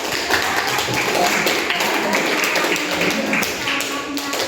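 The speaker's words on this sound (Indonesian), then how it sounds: "kita beri tepuk tangan untuk Rafiq" Students in a school sociology classroom clap for a classmate, a dense run of close handclaps lasting several seconds with voices mixed in.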